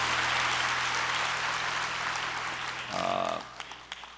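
A church congregation at a Christmas-season service applauds in a steady, dense wash of clapping that holds evenly at a moderate distance, with a low hum beneath and a few sharper claps standing out as it tapers at the end.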